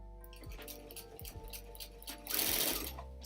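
Sewing machine stay stitching a pleat on a bag panel at half a centimetre, running in short bursts with brief pauses and a louder, denser run near the end, close and alone.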